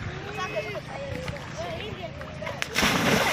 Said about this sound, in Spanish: Bañando en el río Cayabralejo.